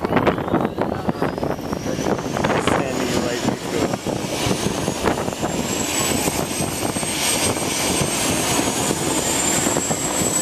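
Thunderbird military jet engines at an airshow roar loud and steady, a continuous high whine sweeping slowly upward, with crowd noise under it and no clear talk.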